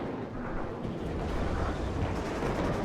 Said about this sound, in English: I like that bombing run.